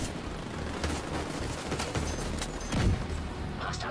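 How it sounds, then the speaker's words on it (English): Rapid bursts of automatic gunfire crackle in the Wall Street time trial of The Division 2: Warlords of New York, dense rattling shots and a few heavier booms throughout, fairly loud and continuous. "I hear gunfire."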